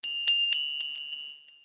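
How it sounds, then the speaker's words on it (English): A small bell rings alone at close range with clear, high metallic tones, struck about four times in quick succession and then left to fade. "A little bell."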